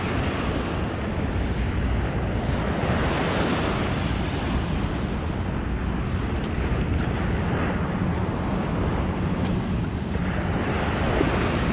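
Calm Atlantic Ocean waves wash onto Brighton Beach, a broad continuous surf roar mixed with wind noise on the microphone, steady and fairly loud with gentle swells in level.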